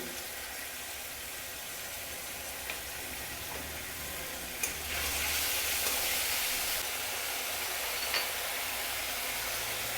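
Masala in a pan sizzles and hisses steadily after water and sugar are added, a close, continuous frying crackle that swells louder partway through, with a few light clicks of utensils and no speech.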